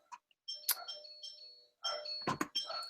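A doorbell rings with two electronic chime phrases of bright, sustained tones, fairly faint as if from another room, separated by a brief pause.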